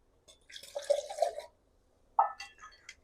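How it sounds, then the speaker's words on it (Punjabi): Water is poured into a cooking pot of salted masala for degi matar (pea curry) in two short bursts, splashing and gurgling, separated by a brief quiet pause. "ਤੇ ਹੁਣ ਆਪਾਂ ਇਹਦੇ ਵਿੱਚ ਪਾਵਾਂਗੇ ਪਾਣੀ"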